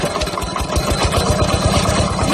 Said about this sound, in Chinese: 那我去开拖拉机去